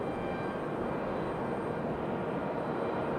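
A small Embraer E175 jet arriving from Chicago O'Hare at Raleigh-Durham produces a steady, low, continuous engine drone for a few seconds.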